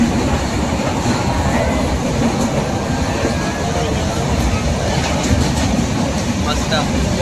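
A Konkan Railway train from Mumbai to Rajapur rumbles steadily along the tracks, a dense low clatter of wheels throughout, loud and close as if heard from inside a carriage.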